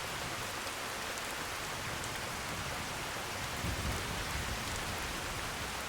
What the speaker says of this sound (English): And it's pouring down rain here.